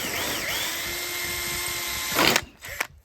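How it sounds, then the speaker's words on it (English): A power drill drilling out the rivets on an RV awning, a steady close whine that ends in a brief grinding burst as the rivet gives, followed by a few short clunks. "So we're drilling out the rivets."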